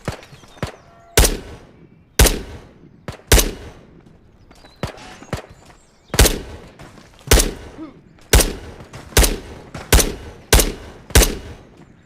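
Bursts of gunfire from respawned scavs in the shooter game Ghosts of Tabor, a dozen sharp loud shots and short volleys spaced irregularly over twelve seconds, each with a trailing echo, no talk.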